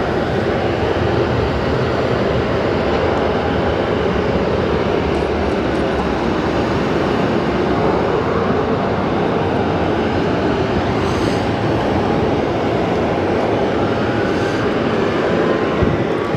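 Jet aircraft turning onto the runway at Phoenix Sky Harbor Airport, a loud, steady engine roar and broad rumble held throughout without pause or talk.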